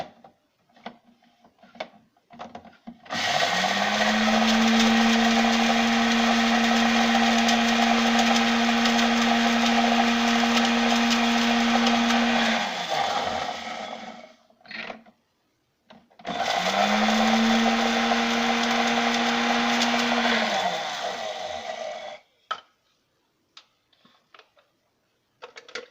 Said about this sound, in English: So I have to bring in the blender.